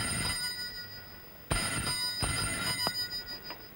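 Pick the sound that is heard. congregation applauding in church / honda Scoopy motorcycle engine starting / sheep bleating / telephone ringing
telephone ringing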